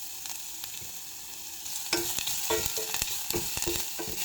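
Ginger hits hot oil in a pan and sizzles, first a quiet hiss, then louder sizzling with repeated scraping strokes of a utensil stirring it, close up and without any talking.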